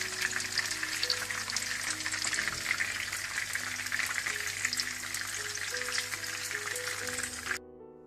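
Gola kebabs shallow frying in a pan give off a loud, dense, continuous sizzle that holds steady with no talking, then stops abruptly at the end.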